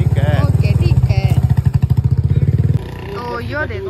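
A motorcycle engine putters close by in a steady rapid thump, with someone talking over it before the engine note drops away.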